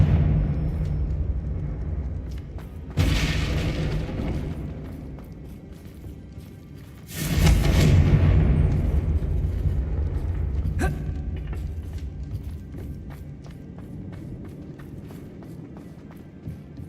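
In Hogwarts Legacy, a Confringo blasting spell sets off two loud explosive bursts, each one sudden and booming before it rolls off into rumbling debris. Footsteps and smaller impacts can be heard between the blasts.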